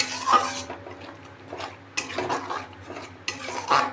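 Spoon scraping and stirring cashew-onion paste in a kadai while cooking egg korma, with irregular metallic clinks and scrapes coming in short bursts close up, no voices.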